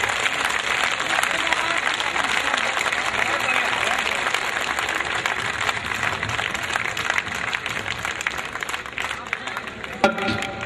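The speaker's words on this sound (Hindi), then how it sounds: "आपने भी भरपूर तालियां बजाई" Loud, sustained applause from an audience at a Hindi kavi sammelan poetry recital honoring the martyrs of 1857, with dense, steady clapping from a large crowd that carries on throughout and ends with a sharp accent.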